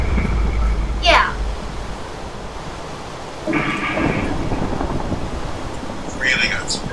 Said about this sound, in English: I kind of like it having a thunderstorm, though.